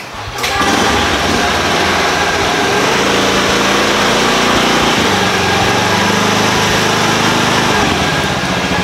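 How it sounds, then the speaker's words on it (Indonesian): Honda Scoopy motorbike engine starting and running loud and close as it rolls over cables, a steady buzzing drone with a rougher low throb partway through. "ini sekarang gue akan cobain gue lindes ini kabel-kabel ini pakai motor Scoopy ya"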